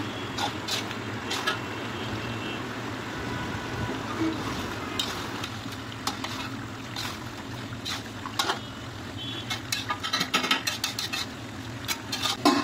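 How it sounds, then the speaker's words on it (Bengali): Chicken stirred with spices in a wok: repeated metallic clinks and scrapes of a spatula over a low sizzle, close and busy, with faint voices at times. "এখন আমি মাংসগুলি দিয়ে দিচ্ছি কড়াইয়ের মধ্যে, দিয়ে উলট পালট করে মশলাগুলি মিক্স করে নিচ্ছি।"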